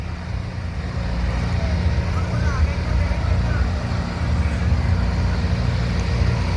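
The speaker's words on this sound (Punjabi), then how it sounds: "ਆ ਦੇਖੋ ਇਹ ਟਰੈਕਟਰ ਪਾਣੀ ਦੇ ਵਿੱਚ ਹੀ ਚੱਲਣ ਡਏ ਹੋਏ ਆ" Steady engine rumble from tractors churning through floodwater, a continuous low drone with faint splashing texture and no talking.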